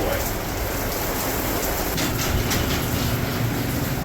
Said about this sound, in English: starting to get rained on through the window.